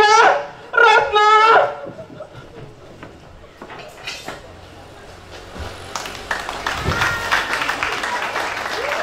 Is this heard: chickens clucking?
no